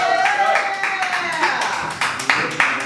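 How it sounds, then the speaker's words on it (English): Audience clapping for a comedian as he is welcomed, a brief burst of hand claps mixed with crowd voices and cheering. "give me a warm round of applause"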